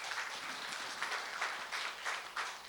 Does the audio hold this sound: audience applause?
yes